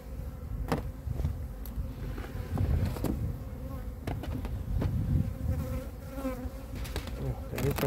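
Honeybees buzz steadily around an open hive frame while queen cells are being checked, a dense continuous drone close to the microphone with brief louder passes and faint handling sounds, no talking.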